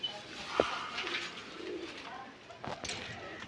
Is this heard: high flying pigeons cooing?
yes